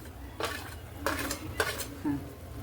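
A spoon scrapes and clinks against a pot while spices such as turmeric, red chilli, coriander and cumin powder are stirred in hot tempering oil, four separate strokes over a quiet background.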